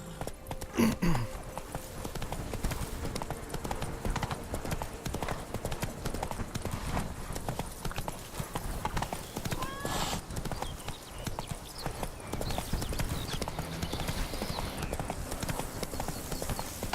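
Horse hooves galloping in The Witcher 3 video game, a fast steady clip-clop running throughout at moderate volume with a brief whinny near the start and faint game sounds beneath.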